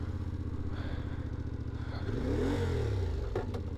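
A CFMOTO Ibex 450 adventure motorcycle idles steadily on a rough trail, then its engine rises and falls in a short rev as it sets off, loud and close, with no talking.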